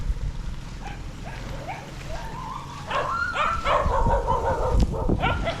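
Several dogs bark and yip at close range on a beach in Tabango, Leyte, Philippines, with repeated sharp barks growing louder and more frequent over steady outdoor background noise.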